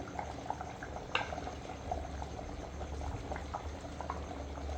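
Chicken salna curry simmers in a pot, giving a steady soft bubbling with small pops and pattering, faint and close, with no voices.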